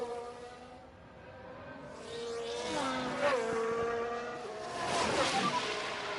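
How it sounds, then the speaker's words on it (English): Racing cars in F1 Manager 22 scream past with rising and falling engine whine and a burst of tire and impact noise during a big crash, loud and close throughout with no talk. "Oh, we've got a big crash already."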